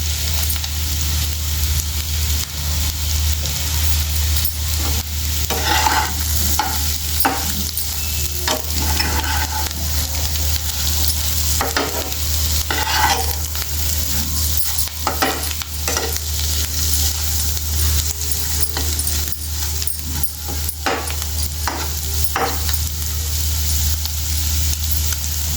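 Egg frying in a pan, giving a continuous bright sizzle with repeated scraping and stirring strokes throughout, close and steady over a low stove hum, with no speech.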